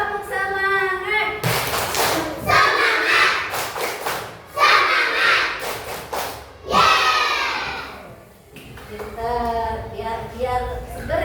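Children in a classroom doing the 'tepuk semangat' clapping chant, bursts of rhythmic claps and shouted chanting in unison alternating with a teacher's voice, loud and close.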